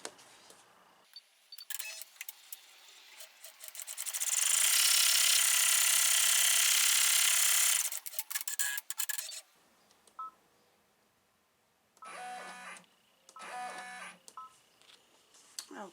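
An embroidery machine stitches a placement line, a fast mechanical whirring chatter that builds into a loud sustained run and then breaks into short stuttering bursts with pauses, close by.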